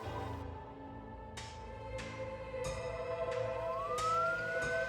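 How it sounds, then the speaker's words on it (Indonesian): A faint ambulance siren wails in the distance, its pitch rising and falling, under recurring sharp clanks and a low background rumble. "suara ambulan bos, dengar nggak?"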